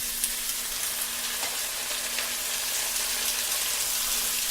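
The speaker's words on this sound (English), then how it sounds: "fry it until the tomatoes soften" Chopped tomatoes fry in a pan for a chicken biryani, giving a steady close sizzle with faint crackles and no talk.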